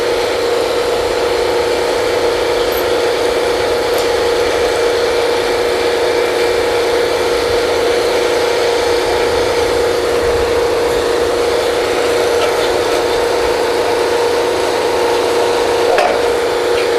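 Machinery on a historical Kelly drilling rig runs continuously, a steady mechanical drone with a sustained tonal hum and faint rubbing, scraping texture, fairly loud and unbroken, with no voices.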